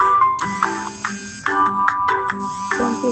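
A mobile phone rings loud and close with a repeating electronic melody of short rising phrases, sounding again and again for repeated incoming calls, with no talking.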